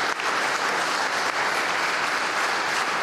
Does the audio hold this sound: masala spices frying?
no